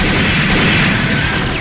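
The GN Wacken weapon in SD Gundam Online firing on auto-lock gives a loud, dense burst of booming blasts and crackling impacts that runs the whole moment without pause.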